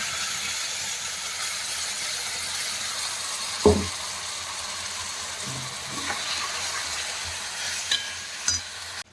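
Mustard spice paste frying in oil for a fish curry gives a steady close sizzle and hiss, broken by a few soft stirring knocks against the pan; no talking.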